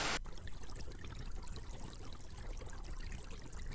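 Water effect from a ghost box app, a steady pouring, trickling stream running continuously at moderate level, alone without speech.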